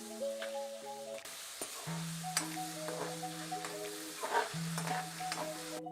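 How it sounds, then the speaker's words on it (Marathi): Curry leaves, green chili and ginger-garlic paste sautéing in oil, a soft sizzle with scattered stirring clicks, quiet and close, with steady tonal music playing over it. "आता हे सगळं तेलामध्ये चांगलं परतून घ्यायचं आहे 1 मिनिटासाठी"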